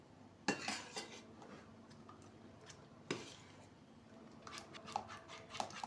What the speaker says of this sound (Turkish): Şimdi çikolatam eriyene kadar karıştıracağım.